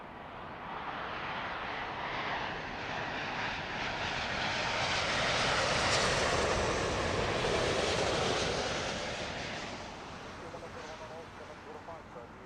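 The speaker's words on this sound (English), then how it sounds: "Always a favourite for southern arrivals, just because the aircraft are so incredibly close to everybody." A jet arriving at Heathrow Airport passes low overhead near Myrtle Avenue: a broad roar swells steadily, peaks loud around the middle, then slowly fades as it moves on.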